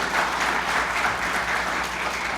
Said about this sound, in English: some applause for some brand new faces here on the Bergstrom State Line Quiz Bowl Junior Edition